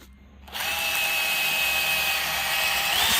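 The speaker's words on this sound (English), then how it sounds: "So I'm going to use a drill." A power drill spins up after a short quiet moment and then runs steadily with a loud, high whine while it cleans out a puncture hole in a tire during a plug repair.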